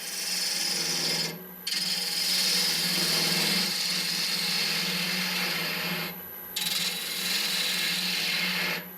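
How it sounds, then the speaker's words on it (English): A quarter bowl gouge hollowing an end-grain natural-edge wood vase on a lathe, a continuous close hissing scrape broken by two brief pauses between cuts. "we're going to start the hollowing. Little quarter bowl gouge,"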